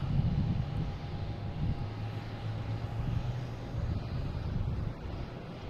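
A JetBlue airliner's jet engines drone steadily, a broad low roar with a faint whine above it, holding fairly level throughout with some wind buffeting the microphone.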